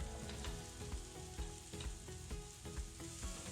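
Steady close sizzling of onions frying in a hot pan, with crackles and occasional scraping stir sounds throughout.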